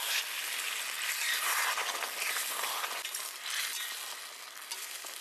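Peas tipped into a pan of half-fried onions for a village-style veg thali, giving a steady, close hiss and sizzle with stirring scrapes and faint clinks throughout, no talk.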